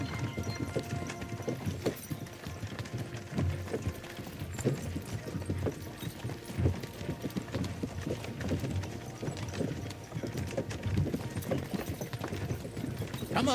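A horse's hooves clip-clop in a continuous, even rhythm close by, steady throughout with no break in pace.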